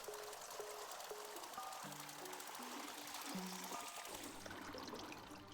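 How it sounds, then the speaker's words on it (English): Water is poured to fill a kettle in a video game, a steady trickling stream that runs throughout under a soft tonal music line. "So we start by filling this thing up with water."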